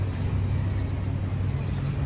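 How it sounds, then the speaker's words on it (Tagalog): An electric city bus rolls through heavy morning traffic on Eglinton West in Toronto, a steady low rumble of vehicles close by with no distinct pauses or voices. "Yan ang bus namin dito."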